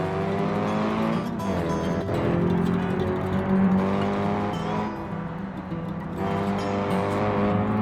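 A Spec 3 BX spec race car lapping a bumpy floating track in BeamNG Drive, the engine droning steadily with shifting revs and occasional tire squeal, continuous and close throughout.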